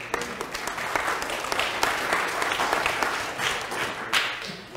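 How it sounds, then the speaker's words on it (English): A church congregation at a Sunday Advent service breaks into warm applause, a full, close burst of many hands clapping that swells and eases over several seconds without speech. "Boy, I didn't expect a round of applause."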